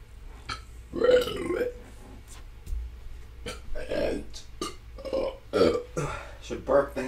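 A series of close, loud burps and belching sounds repeat in irregular bursts over a low steady hum, with vocal-like tonal gurgles through each one.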